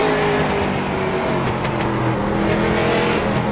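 Race cars roar steadily down the front stretch at Langley Speedway during an MIRL All-Star event, a loud continuous engine drone with a slight swell as cars pass, no talk heard.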